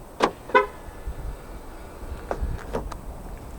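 A 2021 Proton X70 1.8 TGDi confirms its keyless door lock with two short, sharp horn chirps in quick succession, followed by faint soft clicks against a quiet outdoor background.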